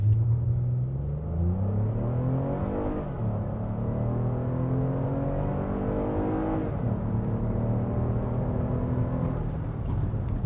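A 2022 Lexus RX350L all-wheel-drive seven-seat SUV accelerating hard from 0 to 100 km/h, its engine note climbing through rising gears with brief dips at each shift, steady and close with no talk.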